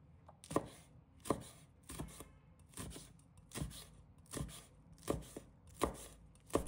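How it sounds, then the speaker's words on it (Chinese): A kitchen knife chops scallion whites and small chili peppers on a cutting board, each stroke a sharp, close knock, repeated in a steady rhythm about once a second with no talking. "葱白切成末， 小米辣切成小圈。"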